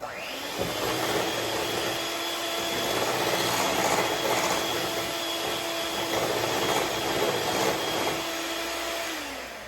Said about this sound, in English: I'm just gonna fluff it up a little bit because the mixer makes it very airy